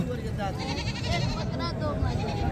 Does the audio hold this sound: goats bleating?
yes